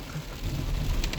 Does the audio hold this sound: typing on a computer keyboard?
no